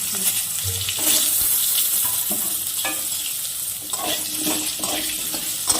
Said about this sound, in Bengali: মাছ ভাজা তেলের মধ্যে আমি আলুগুলোকে দিয়ে নিচ্ছি